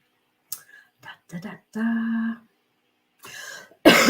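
A few short, sharp coughs and throat-clearing sounds close to the microphone, separated by brief silences, ending with a louder burst.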